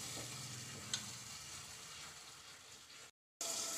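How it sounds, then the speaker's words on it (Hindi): Masala for aloo methi frying in a pan, a steady quiet sizzle with faint stirring scrapes, briefly cutting out near the end before resuming. "मसाला हमारा अच्छी तरह से भून चुका है ये देखें आप।"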